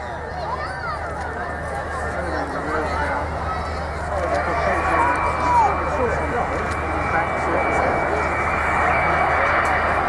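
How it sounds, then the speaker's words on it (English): A delta-wing aircraft with all eighteen wheels down flies past at the Dunsfold 2014 air display, a loud, sustained engine roar that swells slightly as it passes, heard under crowd noise and voices. "So the wheels down now, all 18 wheels, as she flies past."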